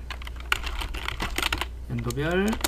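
Rapid clicking of a computer keyboard as a title is typed into a Hangul 2020 document during an ITQ exam exercise, steady keystrokes through most of the stretch, with a voice speaking near the end.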